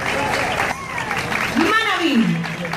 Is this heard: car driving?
no